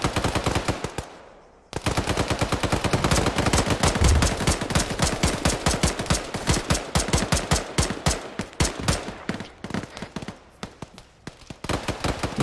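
Sustained automatic gunfire in the military video game Arma rattles on in dense, rapid bursts for several seconds, loud and close, after a brief opening shot and a short pause, with no talking.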